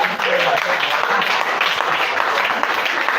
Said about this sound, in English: Let's clap for them. Let's encourage them